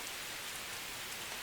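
Steady rain falls hard during a storm, a dense, even hiss of drops on surfaces, continuous and alone with no talk.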